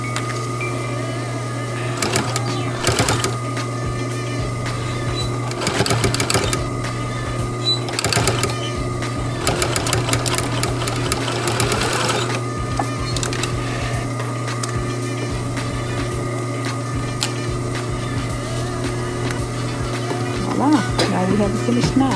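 Sewing machine stitching a mask made from a T-shirt, a constant close mechanical hum with rapid needle clatter in short bursts while someone talks over it.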